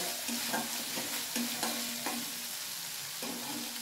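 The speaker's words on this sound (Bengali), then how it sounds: "দেখুন মশলাটা কষানো হয়ে এসছে।" A spice paste with fennel for a fish dish is stirred and fried in a pan, a close steady sizzle with a spoon scraping through it every second or so, no voices.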